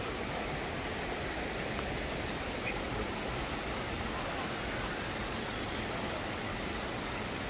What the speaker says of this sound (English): Would you believe this is the same Dunns River Falls?